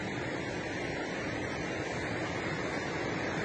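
Steady, dense broadband rushing of a fast-flowing mountain river at the foot of a mountain, continuous and fairly close, with no voices or breaks.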